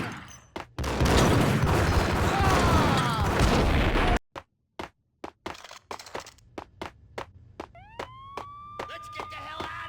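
In a video game, a loud, dense burst of noise gives way to sharp gunfire-like bangs, then wailing police sirens rise in the background as a voice speaks.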